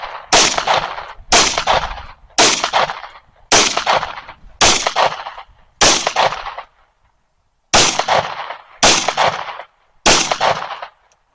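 An HK P30 V9 pistol fires ten loud, close shots, each a sharp crack with a short echoing tail, spaced roughly a second apart with one longer gap partway through.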